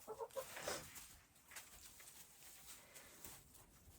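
Chickens give a few soft clucks near the start, then only faint rustling remains. The sound is quiet and close, with no talk.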